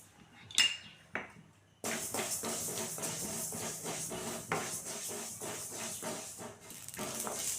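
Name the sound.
mustard seeds and fenugreek popping while dry roasting in pan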